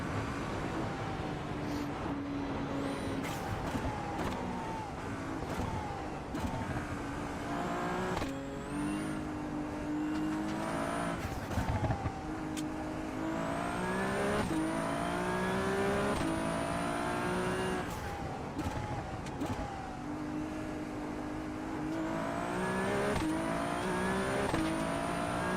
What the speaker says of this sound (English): this is the fastest I've got in a sports car in this game